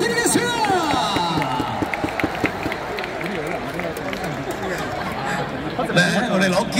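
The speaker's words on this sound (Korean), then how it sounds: "환영의 박수를 부탁드리겠습니다." Welcoming applause and chatter from a baseball stadium crowd at an LG Twins versus Doosan game, a broad steady wash of clapping and voices with a few louder swells near the end.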